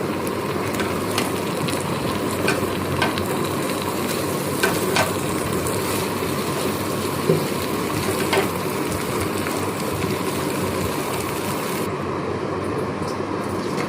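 Mixed vegetables for a Bengali panchmishali torkari fry on low heat in a pan, giving a steady broadband sizzle with scattered scraping and clicking from stirring throughout, no speech.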